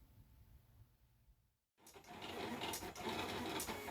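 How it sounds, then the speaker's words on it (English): A cutting plotter slicing small window shapes, a quiet hum giving way after a brief pause to a loud, busy mechanical whirring and clattering with rapid stepping bursts, close up and with no talk. "Here's a quick look at the plotter doing its thing."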